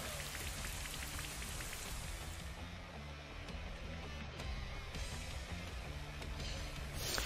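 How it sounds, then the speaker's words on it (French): Steady rain pours down across the whole stretch in a Pokémon Shield video game, a dense even hiss with scattered drops pattering on a surface, no voices. "La pluie, le cauchemar des Pokémon au corps de braise."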